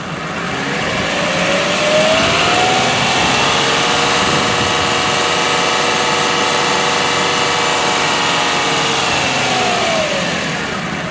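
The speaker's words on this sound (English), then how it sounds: "It says increase RPM to 2500 to 3000 RPM and keep it for 5 seconds," A car engine is revved to 2500–3000 RPM and held steady for a battery load test, giving a loud, even drone that rises quickly, sustains for several seconds, then eases off at the end.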